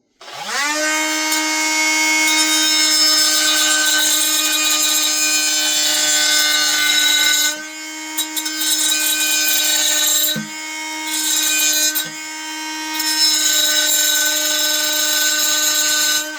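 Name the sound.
Ryobi 18-V hand-held wet/dry tile saw cutting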